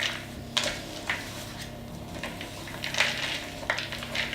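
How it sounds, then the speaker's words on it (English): Chocolate Easter egg pieces are stirred into a mixture in a bowl, giving soft scraping with a few brief clinks of spoon against bowl at an irregular rhythm, fairly quiet. "I'm just going to stir that in."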